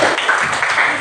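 A classroom of pupils clapping together, a dense, loud burst of applause lasting about a second.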